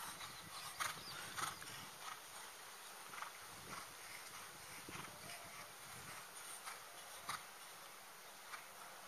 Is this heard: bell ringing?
no